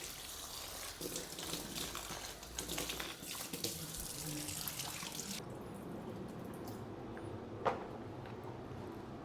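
Tap water runs and splashes while houseplant leaves are rinsed at a sink, a fairly quiet steady stream that cuts off partway through, followed by soft drips and one small clunk.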